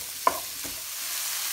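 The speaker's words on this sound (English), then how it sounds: "into a skillet and begin to brown this sausage" Ground sausage browning with diced onion in a skillet: a steady bright sizzle with a couple of quick spatula scrapes near the start, close and even.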